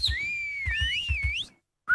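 A person whistles to call a horse in a Minecraft game, with one sustained, wavering whistle that rises and falls and sits close to the listener, plus low thumps underneath and a short final chirp after a brief gap.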